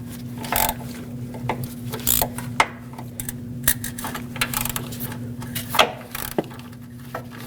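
Irregular metallic clicks and ratcheting ticks from a 13mm socket wrench with extension loosening exhaust manifold bolts on a 2015-2020 GMC Yukon, with scattered clanks over a steady low hum, close by.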